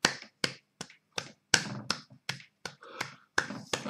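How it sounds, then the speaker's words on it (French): During a church service, sharp, close hand claps land in a steady rhythm of roughly three per second. The claps are sparse and distinct rather than a crowd roar, with brief silences between strikes. "Applaudissez mes frères et sœurs, c'est extraordinaire."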